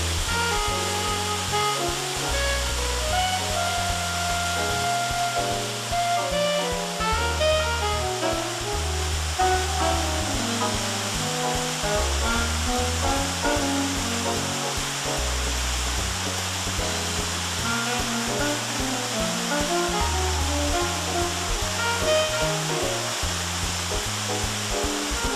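Cathedral Falls in West Virginia cascades into a natural rock amphitheater, giving off a continuous, full rushing roar with tuneful music playing over it.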